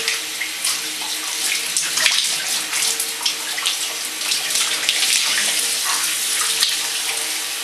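Lukewarm water runs steadily over hair being rinsed, a close, loud, continuous splashing rush with small fluctuations and no talk.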